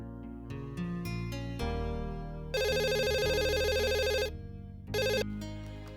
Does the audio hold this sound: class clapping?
no